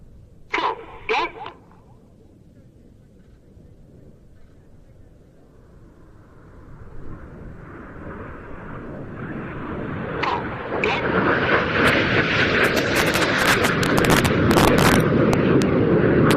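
A synchro pair of display jets dives past at Old Buckenham Airshow, their roar swelling from a low rumble into a loud, broad rush that peaks at the end, with a few sharp pops early and voices faintly present.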